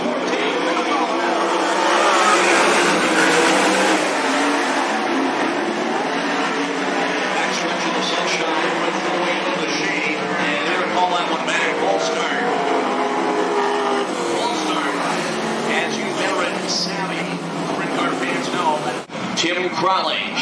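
Sprint cars of the American Sprint Car Series National Tour roar around Cottage Grove Speedway, a loud continuous engine howl rising and falling as the pack runs, with a crowd or announcer faintly underneath.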